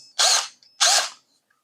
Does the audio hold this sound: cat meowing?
no